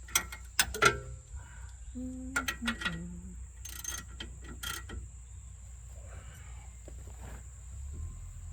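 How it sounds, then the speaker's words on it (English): Brake bolts on a 2001 Silverado 5.3L V8 are tightened with a ratchet. Sharp metallic clicks and squeaky creaks come in short close bursts, then settle into quieter shuffling against a faint steady hum. "Go ahead and ratchet them down."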